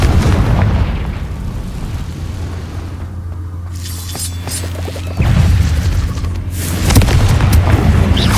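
Fire-spell explosions in Hogwarts Legacy, heavy booming blasts with crackling debris over a sustained low rumble, loud and close, repeating across the stretch.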